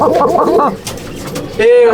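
Chatiyal pigeon at a pigeon loft calling near and loud in a short, clucking, hen-like coo, with a person talking alongside.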